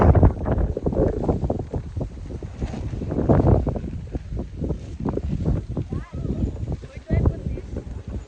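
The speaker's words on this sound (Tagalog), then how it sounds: "Kaya hirap pagluto eh. Mahangin." Strong gusty wind buffets the microphone in loud uneven bursts while people talk over it at a campsite in Cornwall.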